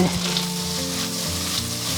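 Chunks of grouper fish and aromatics frying over medium-low heat in pork-belly fat in a pan, a steady close sizzle and crackle throughout with faint stirring clinks.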